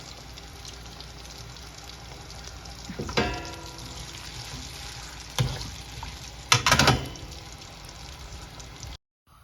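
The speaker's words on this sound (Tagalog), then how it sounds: "nagpa-fry naman ako ng potato" Potatoes frying in a pan for homemade shawarma, a low steady sizzle with a few sharper bursts of crackling and stirring scattered across, ending abruptly in silence.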